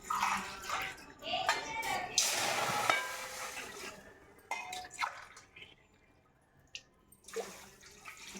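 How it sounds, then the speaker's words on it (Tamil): Water poured by the glassful into a pot while preparing Thiruvathirai kali, three measured glasses tipped in with splashing bursts and short gaps between pours, close and fairly loud. "இதால் 3 கிளாஸ் நான் தண்ணி எடுத்துக்கிறேன்."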